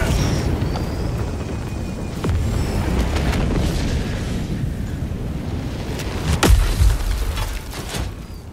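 A walker support weapon drops from orbit and lands in Helldivers 2, giving a heavy booming impact against a constant rumbling, windy battlefield wash, with a strong thump about two-thirds of the way through.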